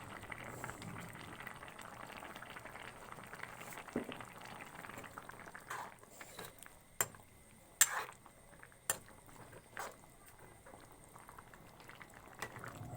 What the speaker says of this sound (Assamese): এয়া দেখিছে ধুনীয়াকৈ উতলখিনি আহি গ'ল।